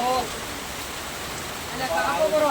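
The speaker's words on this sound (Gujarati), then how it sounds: "વરસાદ પણ અત્યારે ખૂબ પડી રહ્યો છે" Heavy rain pours steadily on an open roadside near Jamnagar, a constant hiss of close, dense rainfall with a voice briefly heard at the edges.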